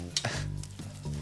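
Bacon frying in a home kitchen pan, a close, soft sizzle with a few clinks of a utensil against the pan, brief and steady with no voices.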